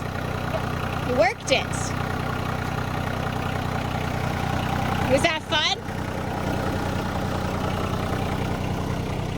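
A tractor engine idles steadily throughout, a constant low rumble beneath two brief bursts of people talking.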